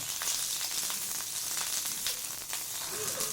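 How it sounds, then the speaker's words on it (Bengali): Cauliflower fries in hot mustard oil in a wok, giving a close, continuous crackling sizzle throughout. "তেলটা হয়ে গেছে ওর মধ্যে আমি প্রথমে ফুলকপিটাকে একটু ভেজে নেব"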